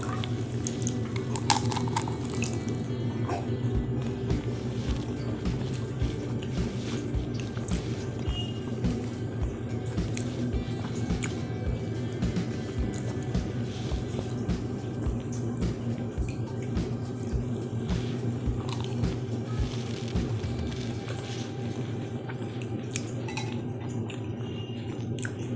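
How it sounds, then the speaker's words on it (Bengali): Someone eats fuchka filled with mashed potato and tamarind water at close range, giving a long run of soft crunches, wet chewing and small clicks with little talk. "এরপর আমি ফুচকাটা খাচ্ছি।"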